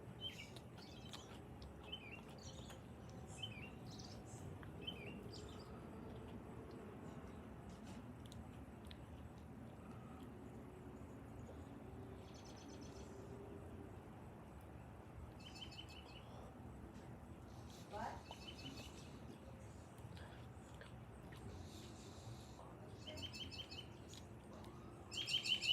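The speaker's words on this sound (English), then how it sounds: "Wild ass birds." Wild birds chirp outdoors in short, scattered high calls that come and go over a steady background hum, fairly faint and with no talking.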